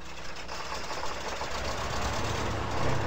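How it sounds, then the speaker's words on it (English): A truck engine in the off-road driving game Spintires runs steadily at idle after starting, a continuous low knocking rumble that stays close and even throughout, swelling slightly toward the end, with no talk over it. "First of all, we got to start the engine."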